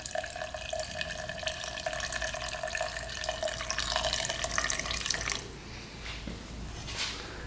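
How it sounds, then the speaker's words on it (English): Gasoline drains from an ATV fuel system as a steady, close trickle and splash of liquid pouring into a container, easing slightly in the final seconds. "We might just drain all that gas"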